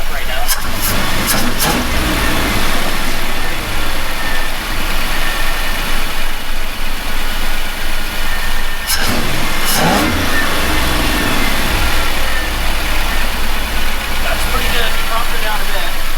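A Chevy engine running after a valve adjustment on a Mad Max-style car, idling steadily with a few quick revs, loud and close, while someone talks over it.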